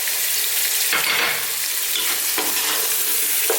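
Beef sizzles loudly in a hot pan over fairly high heat with minced garlic, a constant crackling fry broken by a few scraping stirs as the meat is tossed around.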